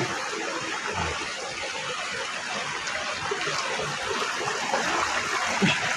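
River water flows in a steady, close rushing wash with no break and no voices.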